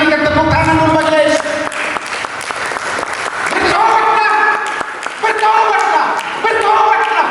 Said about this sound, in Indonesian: Mari kita berikan tepuk tangan dulu majelis.